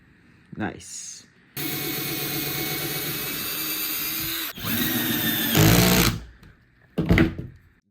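A cheap $20 cordless drill drives screws into wood without a pilot hole while building a budget chair, a loud sustained whirring that rises as it strains near the end, cut by short bursts before and after.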